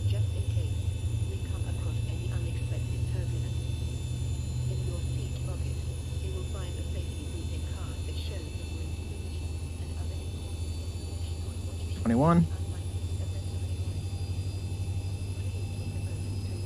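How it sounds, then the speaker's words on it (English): A commercial airliner's engine number one spools up during start in the X-Plane flight simulator, a steady low droning hum that holds level throughout, with a brief rising whine near the end. "Engine 1's going for a good fire."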